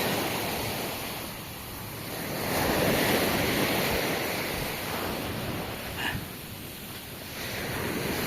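Powerful surf roars steadily, swelling and receding as waves break, with gusty wind noise buffeting the microphone throughout.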